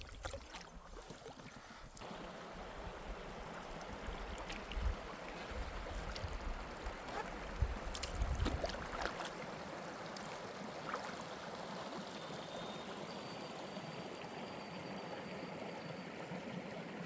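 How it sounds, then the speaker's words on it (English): Steady running water from a stream on a solo backcountry canoe trip in Algonquin, a continuous broadband rush with low rumble, fairly close and constant throughout, with faint wind and no talking. "I hear running water."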